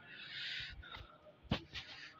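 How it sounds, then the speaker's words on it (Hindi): A pigeon gives a soft, low, hollow cooing, faint and a little distant, with a brief thump partway through and quiet background hiss. "ये देखो कबूतर"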